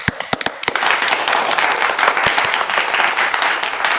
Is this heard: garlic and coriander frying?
no